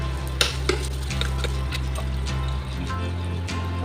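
Mint leaves fry gently in oil in a pan on a low flame, giving a steady close sizzle and bubbling with scattered soft scraping clicks as they are stirred, with no talk over it.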